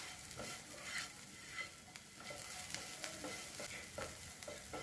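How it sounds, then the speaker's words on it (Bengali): Dahi tarka being stirred in a pan after salt is added, a spoon scraping in soft repeated strokes over a low steady sizzle, close and fairly quiet with no talking. "আবারও 30 থেকে 40 সেকেন্ড একটু নাড়াচাড়া করে নেব।"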